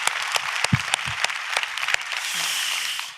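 A church congregation claps, starting with scattered sharp claps that build into steady applause before fading out.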